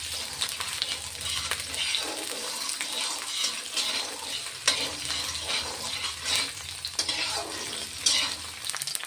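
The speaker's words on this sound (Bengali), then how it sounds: "পেঁয়াজ ভাজা হয়ে গিয়েছে" Onion sizzles and crackles in a hot pan, close up, with the sounds of stirring and scraping breaking through the continuous frying hiss as a dish of flat beans and potatoes is cooked.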